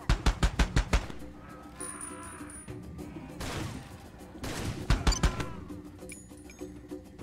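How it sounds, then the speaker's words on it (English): Bursts of automatic gunfire in the PC shooter Far Cry 2: a rapid string of loud shots opens, then quieter scattered fire and a crash, with another volley near the end, no talking. "Another situation where I can't see who the hell is shooting me"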